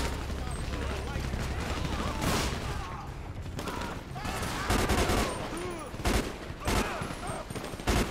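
Rapid bursts of automatic rifle fire from an AR during a police gang-unit patrol in the video game GTA 5 with the LSPDFR mod, loud volleys repeating over a steady game background, with someone talking over them.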